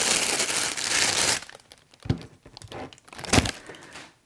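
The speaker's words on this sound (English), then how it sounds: "Let me pull that out and unwrap it." Plastic packaging around a FUJIFILM X-Pro3 camera crinkles in a dense rustle for over a second, followed by a few sharp separate crackles as the wrap is pulled off, close up.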